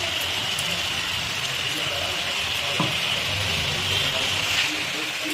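Ginger, garlic and green chili paste sizzling in hot oil with frying mutton and onions, a steady dense crackle and hiss with occasional stirring scrapes throughout.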